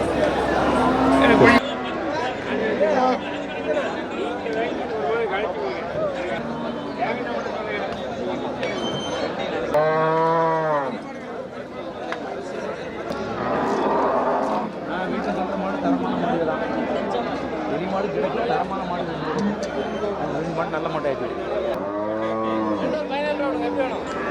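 Cattle moo repeatedly at a busy livestock market in Melapalayam, several long lowing calls rising over constant crowd chatter and people talking nearby, some moos close and loud, others further off.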